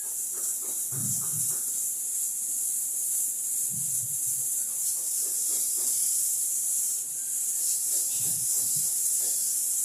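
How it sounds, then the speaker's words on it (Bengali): Grated coconut and sugar sauté in a pan for a patishapta pitha filling, giving a constant soft sizzle. A few brief low knocks come and go beneath it. "এখন নারকেলটাকে একটু কষিয়ে নিব অত চিনিটা গলা পর্যন্ত অপেক্ষা করবো"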